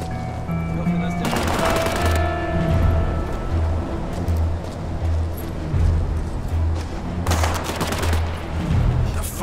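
Video game gunfire in War Mongrels: two loud, dense bursts of rapid automatic shots, one near the start and one near the end, separated by a quieter stretch of rumbling background.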